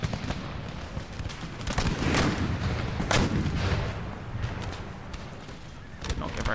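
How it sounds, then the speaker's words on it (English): Cannon and artillery fire in a large Empire Total War battle, Darthmod with Ottoman forces against Russia: repeated heavy booms and rumbling volleys that overlap into dense, continuous gunfire, loud and sustained throughout. "So, cannons, you can shoot this unit right here if you want."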